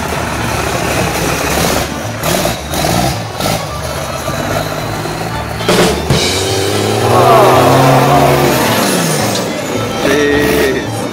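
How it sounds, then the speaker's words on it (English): A lifted Dodge Cummins diesel truck on 44-inch bogger tires rolls down a muddy off-road trail, its engine rumbling and revving steadily and rising as it nears, with people talking over it. "Oh, I hear something big coming down the trail. Oh, all right, so this is a Dodge Cummins on 44-inch boggers."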